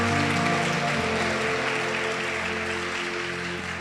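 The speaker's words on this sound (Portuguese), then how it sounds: "Tem alguém que crê nisso e aplaude Jesus aqui?" Applause from a church congregation during a service, a steady sustained wash of clapping across the whole stretch with low musical tones or organ held underneath.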